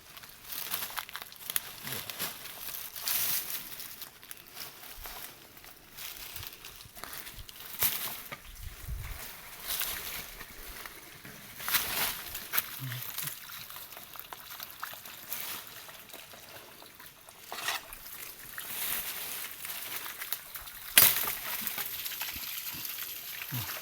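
Water gushes steadily from a leaking irrigation pipe on a mountainside, a continuous close rush and splatter broken by crinkling rustles and uneven surges.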